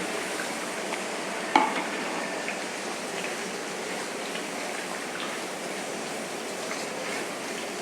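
Onion paste is stirred through a thick chicken roast curry in a pot, a steady rain-like sizzle and bubbling hiss, with one sharp clack of the spoon against the pot early on and no talking.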